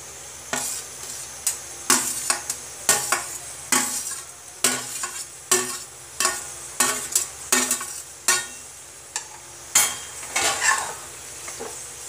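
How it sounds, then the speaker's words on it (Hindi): Mixed vegetables for veg biryani cooking in a pan while a spoon stirs them, giving a soft sizzle under regular scraping strokes that recur about once a second, close and clear, with no speech. "5 मिनट हो गया, सब्जियाँ हमारी पक रही हैं"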